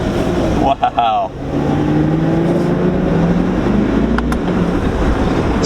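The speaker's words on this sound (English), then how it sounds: "You hear his exhaust. Like, you hear it trying to pop, but it's not popping." Chevrolet Corvette C8 with a Yonristic exhaust droning loudly on the road, with a steady, rising engine tone after a brief gap, and a voice talking over it.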